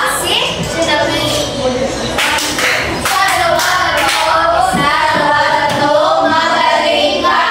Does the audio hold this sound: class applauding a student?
yes